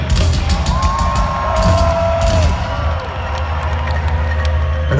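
A large concert crowd at a live show cheers and roars continuously, loud and dense, with shouts and whoops rising through the din.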